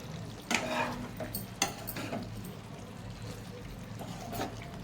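A spoon stirs chicken gongura mixed with garam masala in a cooking pot, giving a few sharp scraping clanks against the metal over a soft, continuous background sizzle.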